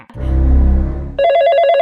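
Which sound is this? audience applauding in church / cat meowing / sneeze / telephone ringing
telephone ringing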